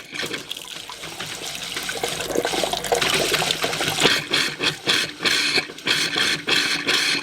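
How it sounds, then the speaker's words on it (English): Water gushes and splashes steadily from an opened hot water valve on a Casita travel trailer being winterized, then breaks into sputtering surges as it drains, close and fairly loud with no talking. "Now I'm going to open the hot water valve."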